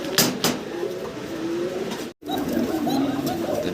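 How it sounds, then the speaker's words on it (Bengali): Pigeons in a loft, including a white pair, coo and call in low repeated murmurs, a couple of sharper calls near the start, close by and moderately loud, with a brief dropout midway. "ভিডিও স্ক্রিনে দর্শক আপনারা শুনতেছেন ককার ডাক, আর খুব চমৎকার ডাকাডাকিতে ব্যস্ত।"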